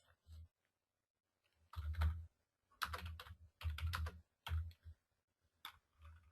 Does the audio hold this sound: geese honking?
no